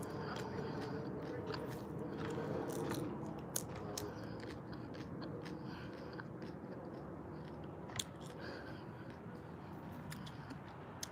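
Leaf of life leaves being chewed, a close, quiet run of moist crunching and biting sounds with a few sharper crackles, continuing steadily with no talk.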